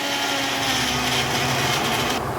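A kitchen mixer grinder blends fried tomato and mint into a smooth chutney paste with salt, giving a steady, loud motor whir and churning that run close and continuous with no break.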